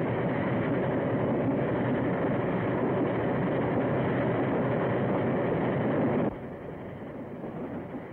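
A train rolls steadily along rails with a dense, continuous rumble and rattle, the level dropping slightly toward the end.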